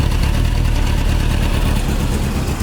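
A carbureted 1982 Nissan 720 King Cab mini truck engine runs steadily up close, a rough, loud, continuous idle from an engine whose carburetor is loading up, with no talk over it.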